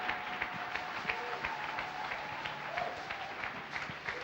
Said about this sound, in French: Si tu connais que Jésus est Seigneur, acclame ton Seigneur alors.